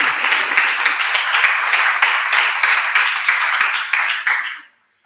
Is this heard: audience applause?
yes